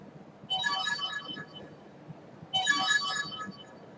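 A mobile phone ringtone sounds twice in a classroom lecture, two loud bursts of electronic melody about two seconds apart, the call going unanswered amid faint room noise.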